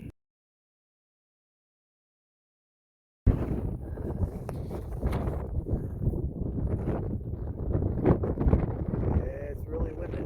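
Strong wind buffets the microphone in loud, gusty roars after a brief silence, with a voice speaking underneath the blustering, on the Appalachian Trail as a cold front rolls in.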